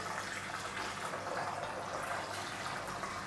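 Water runs continuously from a smart-home garden fountain, a steady broadband splashing and trickling hiss at moderate level that keeps going throughout without any speech.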